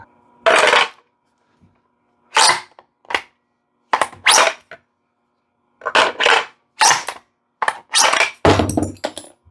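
An FTEC2 AMR foam blaster is cycled by hand, giving loud, close plastic clacks and snaps in separate bursts, some single and some in quick pairs, with silence in between.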